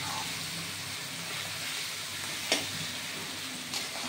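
Spice mix for banana flower being sautéed in a pan gives a steady, soft sizzle throughout, with two brief clicks of a utensil against the pan.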